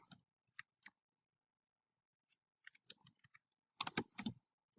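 Quiet computer-keyboard typing, with a few isolated keystrokes, a pause, then quick clustered clicks close by.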